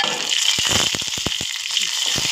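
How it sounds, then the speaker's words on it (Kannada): Green chillies crackle and sizzle in hot oil with mustard seeds, cumin and curry leaves for a tempering, a steady close hiss broken by sharp pops. "ಈಗ 2 ಮೆಣಸಿನ್ಕಾಯಿ ಹಾಕೋತೀನಿ."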